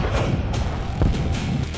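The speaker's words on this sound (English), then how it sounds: "Napoleon's cannons fired." Napoleonic-era cannons firing on a battlefield: deep, muffled booms and thuds rolling under a constant low rumble, with one heavier thump standing out midway.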